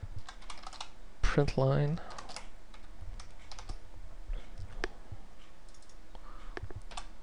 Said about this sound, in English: I really cannot type today.